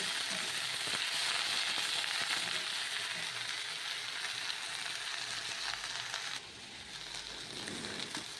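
Loud, steady sizzle of khatkol leaves frying in a pan, with salt being added, a dense crackling hiss running nearly unbroken, easing slightly toward the end.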